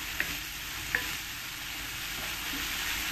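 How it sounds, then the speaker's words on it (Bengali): Ridge gourd with poppy seed being stir-fried in a pan on very low heat, a quiet, even sizzle with a couple of light utensil clinks early on, close and unbroken. "এবার গ্যাসটাকে একদম কমিয়ে দিতে হবে, কমিয়ে দিয়ে ভালো করে একটু কষিয়ে নিতে হবে"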